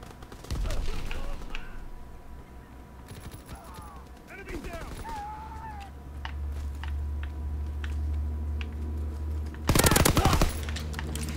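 Automatic weapon fire in the World War II shooter Call of Duty: WWII during a multiplayer team deathmatch, with scattered bursts and a loud, dense volley near the end over a steady game ambience and brief mechanical clicks.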